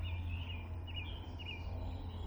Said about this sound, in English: But just take a listen. All the birds.